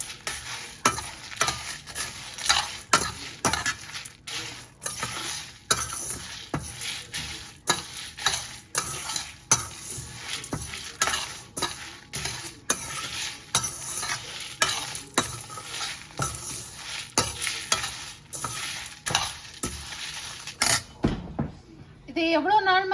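Rasam spice powder dry roasts in a pan while being stirred, giving a steady scraping rhythm of spoon against metal with faint dry crackle, close and fairly quiet, then a brief voice near the end.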